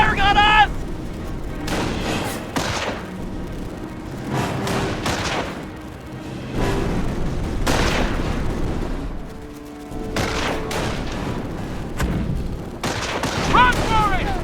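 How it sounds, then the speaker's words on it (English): Battlefield gunfire and booming blasts in the video game Company of Heroes, with steady rifle and machine gun fire and shouting soldiers throughout. "Ground infantry is firing on us!"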